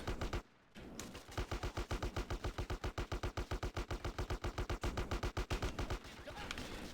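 Sustained rapid gunfire in GTA San Andreas: a long, loud, evenly spaced burst of shots after a brief gap, close and continuous for several seconds.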